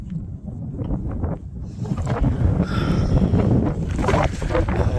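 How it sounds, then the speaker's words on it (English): Wind gusting hard into a microphone on a mountain section of the Appalachian Trail near Buzzard Rock, a loud, rumbling buffet that builds and stays constant. "windy."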